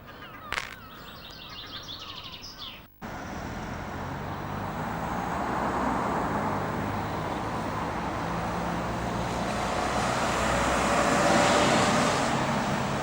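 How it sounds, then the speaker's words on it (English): Light road traffic in Dunfermline town centre during lockdown: a steady, moderately loud wash of passing cars fills most of the clip after a short quieter opening, with faint birdsong in the background. "Admittedly, there is a little bit of traffic going about."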